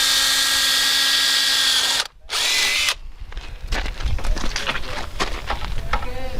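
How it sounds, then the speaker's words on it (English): A power drill bores holes during a van build, a loud close whine that stops briefly and restarts, followed by rougher grinding bursts as it bites into the material. "I'm gonna drill some holes"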